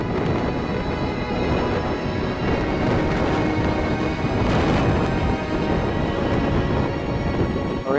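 Rain falls steadily outside a camp in Auyuittuq National Park on Baffin Island amid strong wind, a dense continuous hiss with low rumbling, close and unbroken, with no voices.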